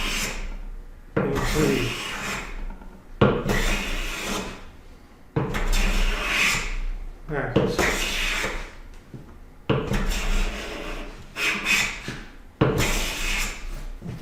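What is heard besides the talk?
hand plane chattering on rough side of wood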